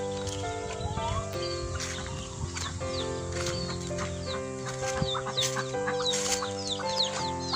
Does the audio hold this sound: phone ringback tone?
no